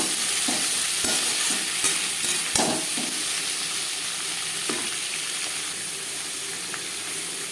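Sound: chopped tomatoes and onions frying in pan for fish curry

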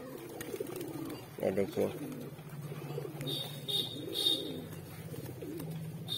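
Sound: pigeons cooing

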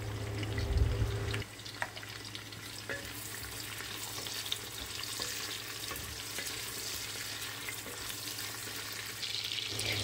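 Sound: chopped onions frying in oil and ghee with spices

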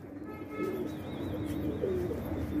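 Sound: pigeons cooing

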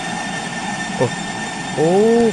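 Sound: MRT train passing overhead in Bus Simulator Indonesia video game

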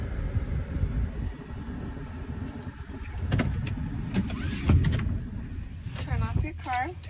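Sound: car engine running at drop-off

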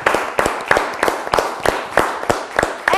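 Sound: audience applause

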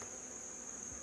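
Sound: honeybees buzzing around an open hive

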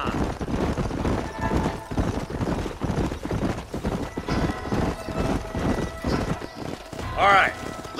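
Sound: horses galloping in video game Red Dead Redemption

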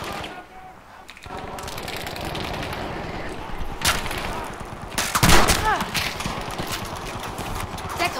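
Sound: Lewis machine gun firing in Battlefield 5 video game

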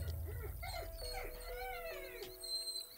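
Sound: puppy whimpering and howling

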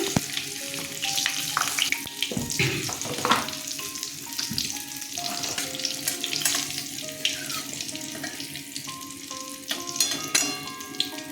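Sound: green chili and cumin frying in mustard oil

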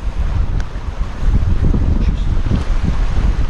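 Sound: wind blowing at a harbour

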